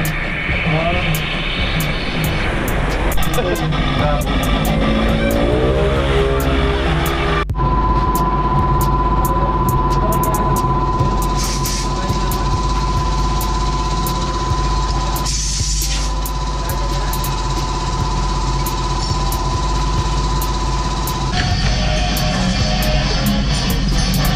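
A motorcycle engine revs and accelerates at a motor shop in Bulan, Sorsogon, with a loud, close, continuous drone that shifts pitch as the throttle changes, steadying into a sustained high whine.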